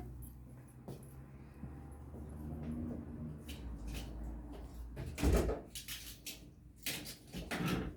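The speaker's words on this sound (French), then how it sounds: "Je vais aller fermer ma porte d'entrée." Household sounds of someone going to shut a front door: shuffling and footsteps, then several thumps and clacks of the door and latch, fairly close, with no talking.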